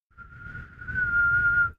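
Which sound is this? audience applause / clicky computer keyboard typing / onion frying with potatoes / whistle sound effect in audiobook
whistle sound effect in audiobook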